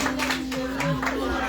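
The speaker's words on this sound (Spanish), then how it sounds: "Fuerte las palmas, por favor." Hands clapping at a birthday celebration, a steady patter of applause with a sustained tone and some voices mixed in.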